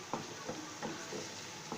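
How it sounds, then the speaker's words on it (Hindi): Onions frying in a pan for a chicken kofta curry, a soft steady sizzle with a few light stirring scrapes at intervals, faint and close. "अब हम इसके अंदर ये प्याज ऐड करने के बाद हम इसको अच्छी तरह से भूनेंगे"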